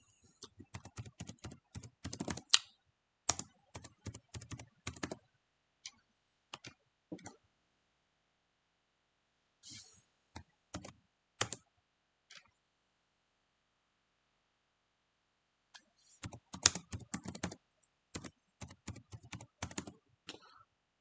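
Python code typed on a computer keyboard: quick bursts of close, crisp keystrokes broken by long silent pauses, with no talking.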